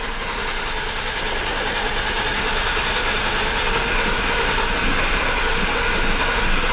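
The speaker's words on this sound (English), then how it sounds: "It wants to start so bad." A BMW E34 barn-find engine cranks and tries to start, giving a loud, steady, dense mechanical roar that runs close and unbroken from start to finish with no voices.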